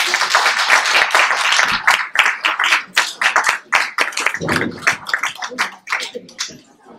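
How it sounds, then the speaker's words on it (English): Applause at a fashion exhibition event for a retired fashion professor on a panel, close and loud with distinct individual claps, thinning into scattered, uneven hits before trailing off. "Let's give a round of applause for her."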